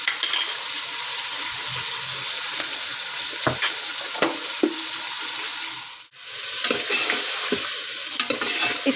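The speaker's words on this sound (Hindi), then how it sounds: "इसकी अच्छी तरह हम भुनाई कर रहे हैं। ये टमाटर भी हम साथ ही डाल रहे हैं" Spices, tomatoes and green chillies frying in a pot for white beef pulao, with loud close sizzling and repeated scrapes and stirs of a spoon, a brief pause midway, and no talk.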